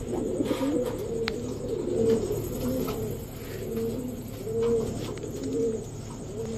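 Pigeons of the Indian Gangchil Kaldam breed coo steadily in repeated low rolling phrases, close and moderately loud, with a faint chirp or two over the soft background.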